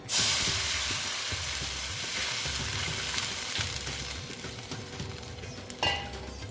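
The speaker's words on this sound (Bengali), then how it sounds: "দেখো এখানে আমি একটু জল দিয়ে দিলাম" Water poured into a hot pan for a masoor dal and bhindi dish erupts into a loud, close hissing sizzle that slowly settles, with a faint clink near the end and no talking.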